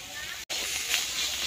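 Chopped onion hits hot fish oil in a pan for a home-style Bengali Malabar spinach curry, giving a steady close hiss of sizzling that cuts out for an instant and then continues evenly.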